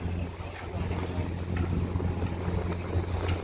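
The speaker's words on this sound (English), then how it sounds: "And we're sailing up. Sailing with a north easterly wind." A traditionally built wooden sailboat sails in a north easterly wind between Grenada and Carriacou: a constant roar of wind across the microphone over the rush of water along the hull, with a low steady rumble beneath and no voices.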